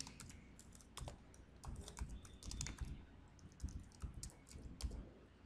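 An email address is typed on a computer keyboard in a quiet room, with bursts of soft, rapid key clicks in uneven clusters, close by with short pauses between groups.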